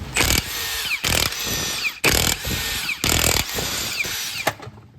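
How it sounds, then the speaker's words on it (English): A power impact tool removes lug nuts from the wheel of an old Mercedes, firing in loud, close, high-pitched rattling bursts of about a second each with short pauses between them and no talking. "the first thing we're gonna do is take these lug nuts off"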